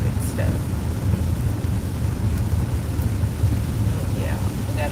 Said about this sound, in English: it's raining harder and harder